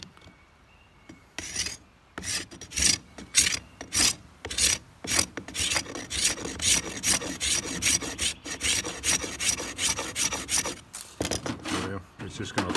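A Corona razor tooth saw scrapes across wood near a hinge in a run of quick, rasping strokes, close and fairly loud, with short pauses between bursts and no talk.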